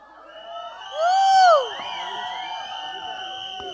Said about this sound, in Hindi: आप लोग तो इतनी तालियां और शोर मचा रहे हैं